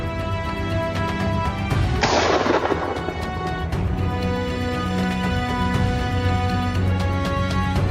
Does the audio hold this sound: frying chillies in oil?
no